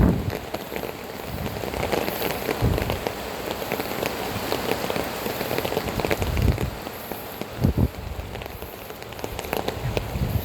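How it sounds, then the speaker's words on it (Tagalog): Steady rain pours onto a street in the Philippines during a typhoon, a dense, continuous hiss with scattered louder drops and splashes close by throughout, no voices. "Dahil abutan na naman akong ulan."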